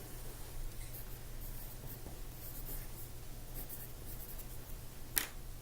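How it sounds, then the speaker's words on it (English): Pencil or pen scratching across paper while writing a name, faint close scribbling strokes in a quiet room with a low steady hum and one sharp tap near the end. "First, I'm going to write my name on my paper."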